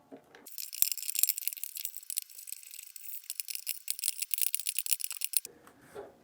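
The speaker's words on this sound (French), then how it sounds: "je vais prendre mon tournevis, pas juste mon gros tournevis, et je vais venir continuer de serrer de la même façon" A screwdriver tightens screws on a Mamorubot resin vat, giving a close, continuous bright rattling and clicking for several seconds before stopping, with small handling noises at either end.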